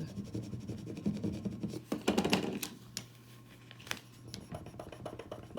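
Holographic vinyl rubbed and peeled off its backing by hand, close up: soft scratchy rubbing and faint crackling, with a few sharper snaps where the film lifts away.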